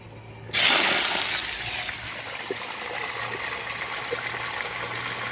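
Water bursts from an outdoor pipe as it is flushed through a point-of-entry filtration setup, a sudden loud rush that settles into a steady, close splashing stream, with no talk.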